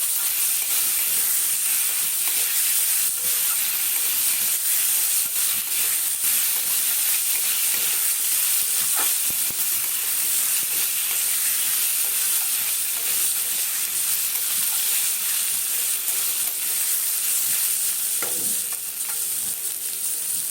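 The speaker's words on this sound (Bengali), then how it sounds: "একটু নাড়িয়ে নিয়ে আসবো" Soaked, softened dalia is stirred in a hot pan, giving a continuous sizzle and frying hiss with scattered scraping strokes throughout, close and fairly loud, with no talking.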